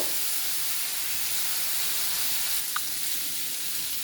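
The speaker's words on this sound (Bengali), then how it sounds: "অবশ্যই কিন্তু সাদা সর্ষেটা এখানে ব্যবহার করবেন, কালো সর্ষেটা দেবেন না। কিছুক্ষণ ভেজে নেব।" White mustard seeds frying in a pan, a steady loud hiss of hot oil with faint crackle throughout and one small tap near the end; no talking.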